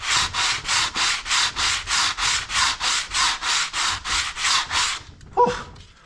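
Sandpaper discs wrapped around a wooden spreader scrub a teak boat deck in about fourteen steady back-and-forth strokes, loud and close, ending with a light knock.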